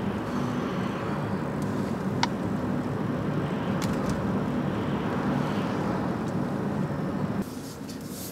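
Mitsubishi i-MiEV electric car driving, heard from inside as a steady, continuous low road and tyre rumble with faint whine, carrying on evenly and easing slightly near the end.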